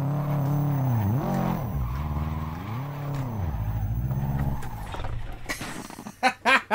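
Subaru rally car engine in a racing video game mod, revving and bouncing against launch control on a Costa Brava rally stage, loud and continuous with wavering pitch, then sharp tire-squeal bursts near the end.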